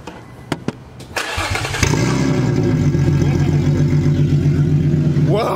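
An Infiniti G35 coupe on a straight-pipe exhaust cranks with a few sharp clicks, then fires up into a very loud, raspy, steady idle that rumbles on close by, with no talking.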